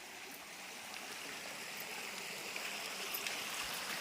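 A forest stream near the Khandapada Buddhist site in Nayagarh flows in a steady, soft rush and trickle of water, faint and continuous throughout with no voices.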